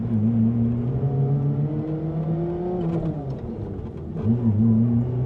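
A Mercedes C111 sports car engine drones steadily up close, pitch climbing through the revs past about 2,000, dropping briefly as it shifts, then rising again.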